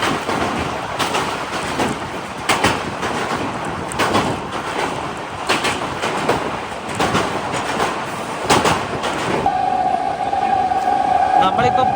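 Nonstop Bandra to Jaipur train running through Bharuch Junction without stopping, a steady loud roar of wheels and carriage rumble with repeated clattering bursts, ending in a high sustained tone near the end.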